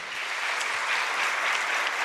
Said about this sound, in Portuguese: Será que a gente pode aplaudir Jesus de Nazaré, a palavra do Senhor?